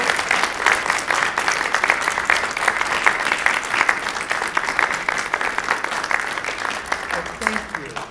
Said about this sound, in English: I want a big applause for all the students.